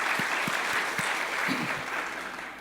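A church congregation applauds together at the opening of a worship service, a steady, dense wash of clapping from many hands that fills the room and carries on throughout.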